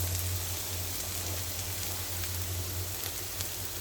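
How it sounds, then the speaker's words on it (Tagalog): Onions sizzle steadily in a hot pan while being sautéed before corned beef is added, giving a constant crackling hiss with a low hum underneath. "maggisa ako ng sibuyas bago ko ilagay ang corned beef"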